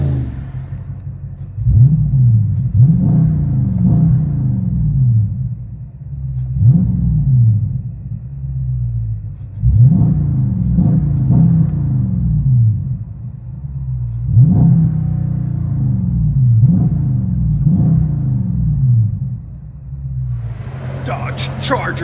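Heard from inside the cabin, a 2021 Dodge Charger Daytona's 6.4L HEMI V8 with Magnaflow exhaust gives a series of muffled, deep rev blips separated by rumbling idle, with a brief rustle at the end.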